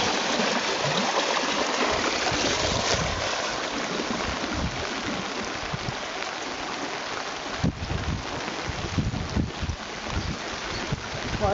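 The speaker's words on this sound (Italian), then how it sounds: "c'è un tombino che raccoglie l'acqua, continua a canalizzare l'acqua, riparte e se ne va giù" Water rushes steadily through a drainage channel and culvert during flooding, a dense continuous broadband roar close to the microphone with occasional louder surges and some wind buffeting.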